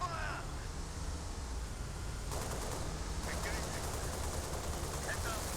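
Bursts of rapid gunfire crackle through a Halo Reach firefight, sustained automatic shots with brief pauses under a steady din of combat noise and game effects, without spoken words.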